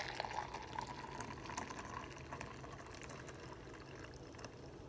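A frothy pumpkin pie spiced turmeric latte poured into a mug, a faint, steady liquid stream with light gurgling that runs evenly throughout, close by and quiet, with no voices.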